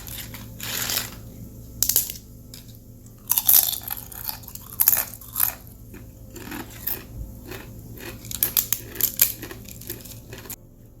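Crispy fried egg chips are bitten and chewed up close, with sharp crunches arriving in uneven bursts and quieter chewing between them, and no one speaks.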